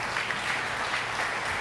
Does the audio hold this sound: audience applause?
yes